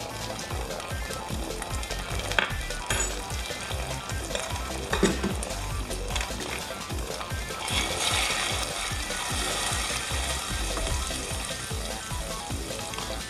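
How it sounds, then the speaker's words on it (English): English toffee, caramelized sugar just pulled off the heat, sizzles and crackles steadily in the pan, a continuous dense hiss with faint scraping stirs, close and alone with no talk. "and sizzling even though I pulled it off the heat because, well, caramelized sugar retains heat really, really well"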